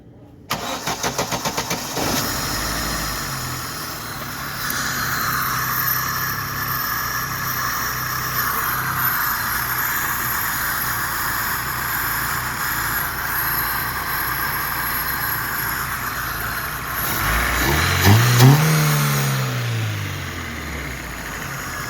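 A Daewoo Nexia engine cranks for about two seconds, catches and settles into a steady mid-pitched idle close by, then revs up sharply and falls back to idle.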